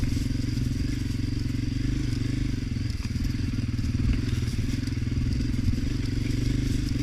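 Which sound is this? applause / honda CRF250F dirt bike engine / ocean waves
honda CRF250F dirt bike engine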